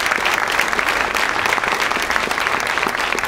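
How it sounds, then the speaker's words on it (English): Loud, dense audience applause fills the hall after opening remarks at a film festival screening, a steady unbroken roar of clapping with only faint crowd murmur beneath. "Big round of applause for you."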